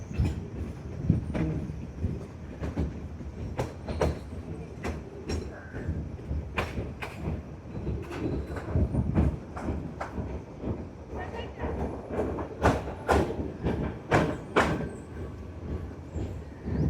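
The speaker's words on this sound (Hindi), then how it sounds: "ये 1 घंटे की देरी से करीब बिछिया रेलवे स्टेशन ये टूरिस्ट ट्रेन पहुंचते हुए" Tourist train pulling into Bichhiya railway station near Dudhwa National Park, a steady low rumble of wagons with sharp metallic clicks and clanks recurring throughout, fairly close, with faint voices in the background.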